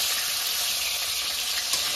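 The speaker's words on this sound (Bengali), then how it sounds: "এখন আর এক পাশ ভেজে নিচ্ছি।" Steady sizzling of snakehead fish frying in hot oil, a continuous crackling hiss close by with no talking.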